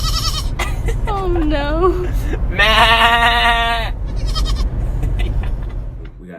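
Baby male goats bleating, two long wavering bleats close by, followed by a brief spoken comment.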